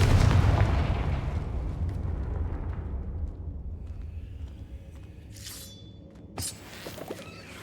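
A Confringo blasting spell explodes in a Harry Potter video game: a loud, close boom opens, then a long rumble slowly fades. Fainter magical shimmers and a short sharp burst follow near the end.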